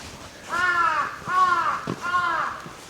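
A crow in a Japanese village gives three loud, harsh caws in an even rhythm, close by and clear over faint background noise.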